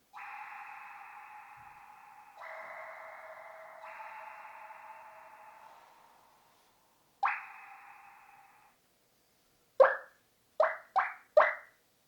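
Synthesized water droplet effects: a few longer tonal plinks followed by a quick run of four short, bright drip sounds, clean and isolated.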